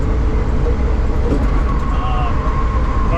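A Volvo 122 Amazon fitted with a Ford engine drives along with a loud, steady low engine drone and road rumble heard from inside the cabin.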